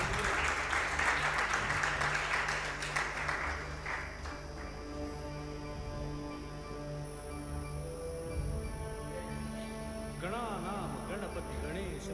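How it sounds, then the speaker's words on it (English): A big round of applause fills a hall at an educational mentoring program in Mumbai, loud and dense for about four seconds, then thinning as sustained musical tones take over and continue to the end. "Give a big round of applause."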